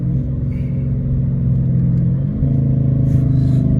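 A catless Dodge Challenger R/T downshifting while driving, a loud, close, deep engine drone whose pitch shifts partway through and then holds a steady rumble.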